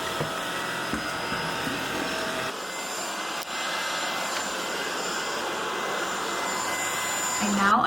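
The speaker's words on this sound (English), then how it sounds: "I now understand the hype of cordless vacuums." A cordless vacuum cleaner runs steadily over a hardwood floor in an apartment, a continuous close whir with a brief dip partway and a slight swell near the end.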